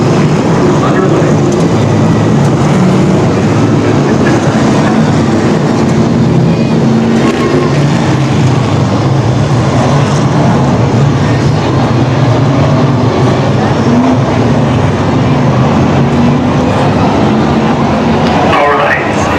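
Loud, continuous engine roar of super stock cars rolling past on a speedway under the one-to-go signal, a dense rumbling drone that stays constant throughout with a crowd-like wash behind it.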